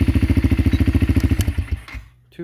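A 250cc two-wheel-drive four-wheeler ATV engine chugs close by in a steady, rapid pulsing rhythm, then cuts out and dies away to near silence at the end.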